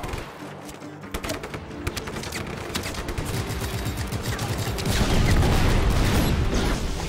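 Rapid bursts of automatic gunfire and fusillades from the video game Just Cause 3 rattle on and grow louder and denser toward the end, with no voices over them.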